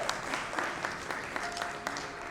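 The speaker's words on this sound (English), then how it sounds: "A huge round of applause, please" Audience applause at a Cyber Security Congress felicitation in Kolkata, continuous mid-level clapping from a seated hall that holds steady for a couple of seconds, somewhat distant, with no voices over it.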